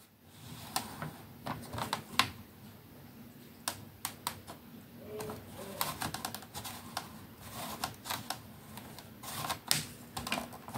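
A paper trimmer slices through folded card for a pop-up staircase card, giving a series of sharp clicks and scraping strokes at close range, irregular in rhythm, with no talking.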